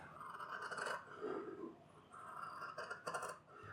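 Fabric shears trimming sewing panels for the front of a cap: faint, close, continuous rasping snips of blades through cloth, fairly even with small bursts toward the end.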